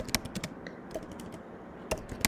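Scattered taps on a computer keyboard while a lambda function is written, close light clicks in short bursts separated by pauses, with no speech.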